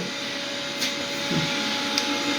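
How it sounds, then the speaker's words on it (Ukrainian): A robot vacuum cleaner runs indoors in a flat, with a steady whirring motor hum and a thin tonal whine, joined by a few faint bumps and clicks as it moves about. "я вмкнула робот-пилосос весь ранок їздить"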